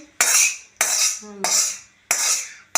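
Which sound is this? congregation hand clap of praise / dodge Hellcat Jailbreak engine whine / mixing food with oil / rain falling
mixing food with oil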